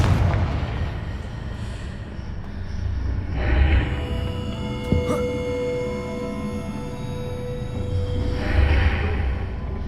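Confringo fire spell cast in Hogwarts Legacy, a booming blast that swells twice over a rumbling, droning game soundscape, with a sharp crackle in the middle.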